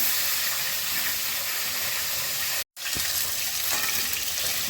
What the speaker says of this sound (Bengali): এটা সর্ষের তেলে হবে। মাছগুলো ভেজে নিচ্ছি।